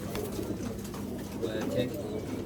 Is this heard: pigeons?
yes